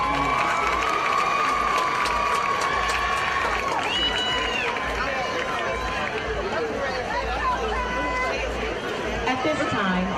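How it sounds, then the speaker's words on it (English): A stadium crowd at a high school football homecoming cheers and applauds for the homecoming queen, a dense, steady wash of voices, shouts and clapping that carries on throughout without a break. "Let's give our homecoming queen a round of applause"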